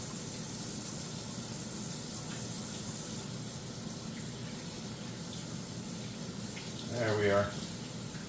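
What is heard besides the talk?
water running while washing hands at the tap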